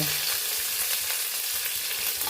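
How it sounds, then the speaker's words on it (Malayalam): Curry leaves frying in hot oil for kootukari, a steady close sizzle and crackle running throughout with faint stirring, no talking. "അപ്പോൾ ഞാൻ കറിവേപ്പില ഇടുന്നു"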